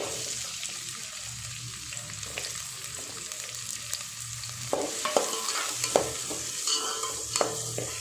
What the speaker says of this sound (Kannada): ಎಣ್ಣೆ ಕಾದ್ಮೇಲೆ ಒಂದು ಸ್ವಲ್ಪ ನಾನು ಈರುಳ್ಳಿ, ಹಸಿಮೆಣಸಿನ್ಕಾಯಿ ಹೆಚ್ಚಿಟ್ಕೊಂಡಿದ್ದೀನಿ.